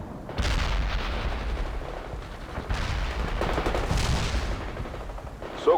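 Artillery and gunfire in the video game World in Conflict roar loudly in repeated heavy bursts and rumbling volleys, close and sustained, with a sharp crack at the very end.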